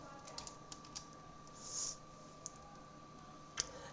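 Sparse, faint keystrokes on a computer keyboard click a few times at irregular intervals over a quiet hiss, with one brief soft swish midway.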